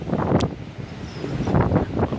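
Strong mountain wind on a long trek, gusting hard against the microphone in rough, surging blasts that swell and fade throughout, with no voices.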